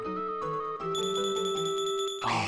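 Chime-like tones in Chrono Trigger during a Bell Bird enemy encounter, bright sustained bell notes layered as stacked pitches, then a short crunchy burst at the end, with no talk.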